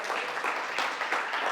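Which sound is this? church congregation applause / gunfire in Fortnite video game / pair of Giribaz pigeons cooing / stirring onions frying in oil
church congregation applause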